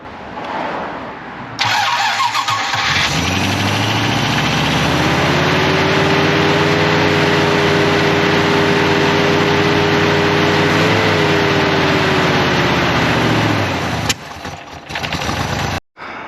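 A 1970 Rover 3500S V8 fitted with a Holley carburettor cranks, catches and settles into a loud, steady idle close by, the engine note rising briefly before cutting off near the end.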